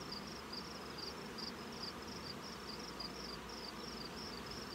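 Honey bees in a crowded nuc hive make a steady, dense buzz that hums close and continuous throughout, with a faint higher whine pulsing above it and no talking.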